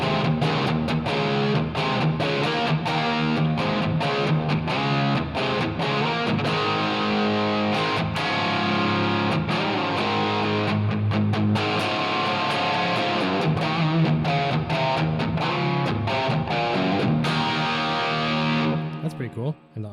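An Eastwood Airline '59 3P DLX electric guitar plays through a distortion and effects patch with reverb split to one speaker, a dense, continuous stream of chords and notes that cuts off at the end.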